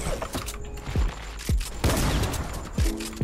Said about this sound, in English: I'm not hitting no shotgun shots right now.